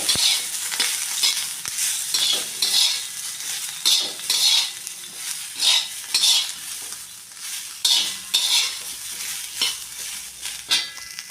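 Brinjal palya ingredients stir-fried in a spoonful of oil in a pan, a spatula scraping and clinking against the metal in repeated strokes over a steady sizzle, close and alone without talk.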